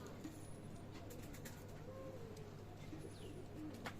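Soft, low cooing of Pakistani Teddy pigeons recurs under a steady background hum, with a few faint chirps and distant noises mixed in.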